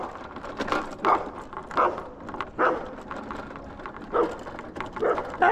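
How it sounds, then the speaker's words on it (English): Dogs barking in a residential neighborhood near houses and yards: several short, moderately distant bursts spaced irregularly over steady outdoor background noise. "They can bark."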